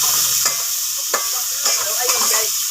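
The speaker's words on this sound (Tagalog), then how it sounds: "Ilagay ko na yung sibuyas." Onion and garlic frying in oil in a pan, a steady close sizzle broken by a few sharp stirring scrapes, with no one talking.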